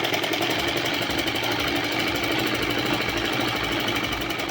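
A sewing machine stitching fabric runs steadily at close range, its rapid mechanical chatter continuous and fairly loud throughout, with no talk over it.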